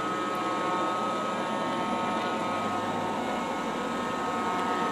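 A Shark Ion R76 robot vacuum runs with a steady, continuous motor whir and brush hum at close range, unchanging throughout with no voices.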